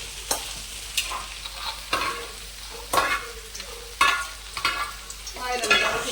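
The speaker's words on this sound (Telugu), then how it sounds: "చక్కగా ఎండుమిరపకాయ ఎర్రగా వేయాలి." Dried red chillies frying in oil for gongura chutney, soft sizzling punctuated by regular scraping stirs of a spatula in the pan, close and intermittent.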